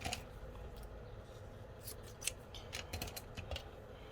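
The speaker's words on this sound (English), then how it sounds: "So I'm going to just trim a piece of this off." Scissors trim a piece of paper in a quiet room, giving a series of small, crisp snips, faint and irregular, with no talking.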